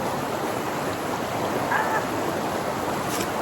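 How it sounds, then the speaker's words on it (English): Water at a rolling boil in a pot on a stove fire for cooking pasta, a steady broadband bubbling hiss close by with no pauses, alone throughout. "My water is boiling."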